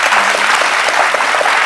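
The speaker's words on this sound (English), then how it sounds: "There go that clap sign, y'all" Studio audience applause on the talk show The View, a loud burst of many hands clapping in a dense, rapid patter that fills the whole short stretch, with no talk over it.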